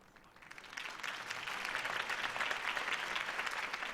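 A crowd in a video game breaks into applause after a campaign speech, a dense steady patter of clapping that swells over the first second and holds, heard at a moderate distance.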